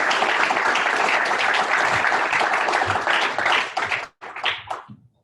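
Audience applauds to welcome a speaker before a lecture, dense steady clapping that thins out and stops after about four seconds, followed by a few scattered claps.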